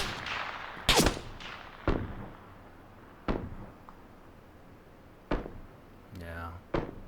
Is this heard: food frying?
no